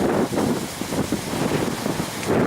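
Strong wind blows steadily across Konyaaltı beach in Antalya on a cold, sunny January day, a continuous loud broadband rush with gusty fluctuations and no voices.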